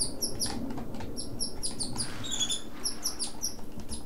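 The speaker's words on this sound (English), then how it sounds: "And my birds are fighting again." Pet birds chirp and squabble in a quick run of high, sharp tweets and squeaks, close and fairly loud, repeating in bursts over a low steady background hum.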